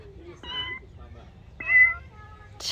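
Two electronic cat meows from a playground sound panel ring out clearly in an outdoor park, with a brief louder burst at the end and faint background noise between calls.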